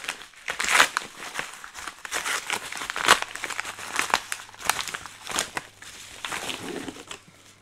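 A paper envelope from a pre-ordered parcel being opened and handled up close, with steady crinkling, rustling and tearing bursts and a few sharper crackles throughout.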